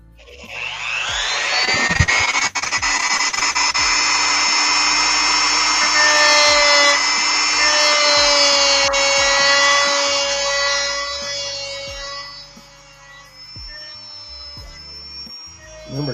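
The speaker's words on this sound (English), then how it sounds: "Get the grinder out." A power grinder cuts through a metal U-bolt, spinning up with a loud, steady high whine that holds for about ten seconds before easing and winding down, with no talk.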